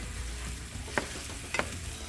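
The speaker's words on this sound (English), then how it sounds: "Have our apple sizzling." Apples fry in butter in a pan with a soft, steady sizzle, broken by a couple of brief clicks of a utensil stirring.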